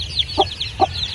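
Free-range native chickens on a farm in Glan, Sarangani cluck in two short, soft bursts over a steady low rumble, with faint high chirps of chicks running through the background.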